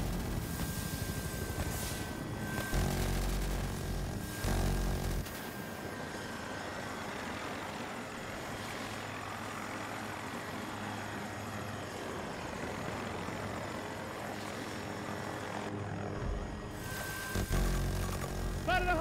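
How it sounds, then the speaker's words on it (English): A hostile helicopter in the shooter game Battlefield 2042 drones steadily at moderate distance, its rotor and engine rumble running continuously under dense battle noise, with brief bursts of gunfire and radio chatter. "Hostile helicopter."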